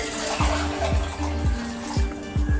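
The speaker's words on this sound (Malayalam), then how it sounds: "അപ്പോൾ വെള്ളം ഒഴിച്ചു കൊടുക്കാം നമുക്ക്." Boiled water poured into a pot of biryani, a close, loud, splashing gush running the whole time, with soft repeated knocks and gulps that come roughly every half second.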